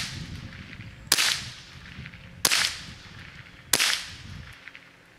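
Three gunshots are fired at a laptop from about ten to twelve feet away, each a sharp, loud crack with a short ringing tail, spaced roughly a second and a half apart.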